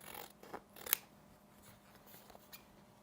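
Scissors trim fabric in a sewing room, a few crisp close snips standing out against a quiet background, with one sharper cut near the start and a fainter snip later.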